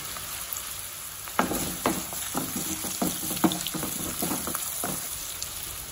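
Curry leaves and green chilies frying with garlic, ginger, onion and red chilies, a soft continuous sizzle with scattered stirring scrapes and clinks, fairly quiet and with no talk.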